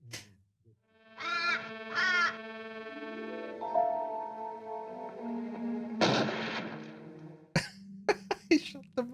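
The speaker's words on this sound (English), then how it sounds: "He shot the bird." A bird is shot in a scene from the 1964 film A Shot in the Dark: a couple of quacks, a sustained tone, then a sharp, loud gunshot burst followed by another crack and scattered short sounds.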